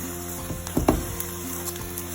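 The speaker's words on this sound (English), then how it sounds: "we just press it gently so that every part of the paratha gets cooked nicely with oil" Aloo paratha frying in oil on a pan as it is pressed down, a soft sizzle with a couple of brief louder crackles, no talk.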